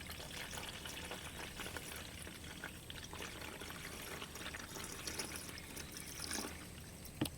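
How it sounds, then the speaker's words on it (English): Coolant pours into the radiator of an abandoned Mercedes 300CD, a faint, steady trickle and gurgle of liquid running continuously at low level with no talk. "I thought was doing the coolant first would get it a lot more mixed"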